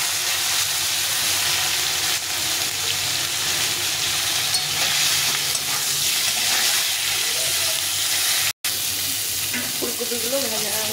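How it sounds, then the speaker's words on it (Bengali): Parboiled cauliflower florets fry in hot oil for a cauliflower fish curry, sizzling loudly and evenly at close range with a brief dropout near the end and a faint voice in the closing moments. "এখন আমি ফুলকপিটা এখানে ভেজে নেব"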